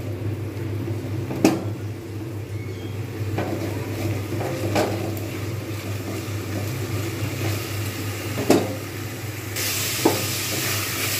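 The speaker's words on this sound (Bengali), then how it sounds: "ভালোভাবে ভেজে নেবো" Prawns fry in oil in a pan, giving a continuous close sizzle broken by a few sharp clinks and knocks of a utensil.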